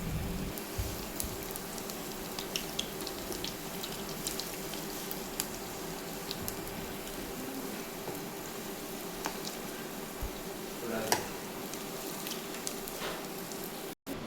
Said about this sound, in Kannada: ಈ ಥರ ಎಣ್ಣೆಯಲ್ಲಿ ಬಿಡಬೇಕು